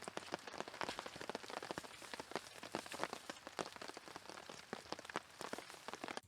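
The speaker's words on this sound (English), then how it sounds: "it's pouring rain" Pouring rain falls on a forest campsite during a solo overnight bushcraft trip, making a fast, dense patter of drops striking surfaces that stays steady and fairly soft throughout.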